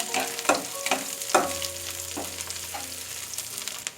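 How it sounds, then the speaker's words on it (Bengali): Chopped garlic, green chili and onion frying in a pan with a crackling sizzle, punctuated by a few sharp stirring clatters near the start, with no talking. "এর মধ্যে আমি রসুন কুচি, কাঁচামরিচ এবং পেঁয়াজগুলো দিয়ে দেব। দিয়ে এটাকে হালকা ভেজে নেব।"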